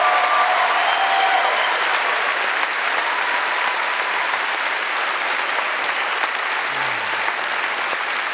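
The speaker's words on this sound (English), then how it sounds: "round of applause for our panelists here." Sustained applause from a large convention panel audience at PAX West, honoring panelists at a Witcher anniversary event; a steady, dense wash of clapping that holds evenly throughout.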